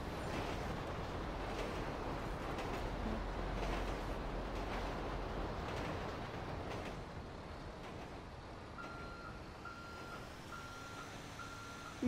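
A train rumbles steadily past in GTA V, a broad continuous roar that eases slightly toward the end while a repeating electronic beep sounds over it.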